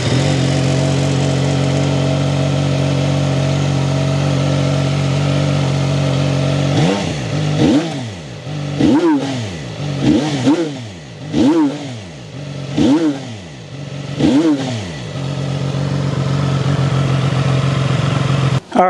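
A 2025 CFMOTO 675 SS motorcycle in neutral idles steadily, then is revved in a series of sharp throttle blips that rise and fall before it settles back to a smooth idle, loud and close.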